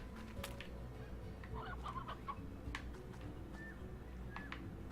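Briar hens in the Slime Rancher video game cluck softly, a brief burst of faint clucking with a few small chirps over a steady low background hum of game ambience.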